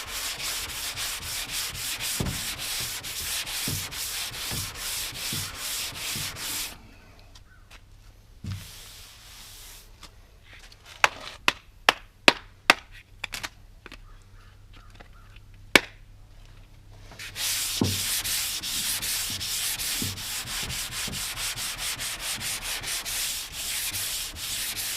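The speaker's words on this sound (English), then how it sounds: "See how I'm sanding here" Hand sanding the car bodywork of a 1978 El Camino SS: loud rhythmic rasping strokes, then a quieter stretch with a few sharp taps and scrapes, before the steady scrubbing resumes close up.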